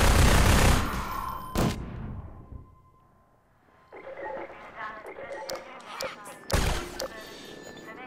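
Half-Life 2 gunfire cracks out in loud bursts, a rattle at the start and a sharp shot soon after, then another heavy burst later, with game sounds and chatter in between.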